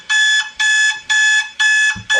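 An alarm clock rings in loud, piercing electronic beeps, four even bursts in a steady on-off rhythm with brief gaps, heard up close and alone.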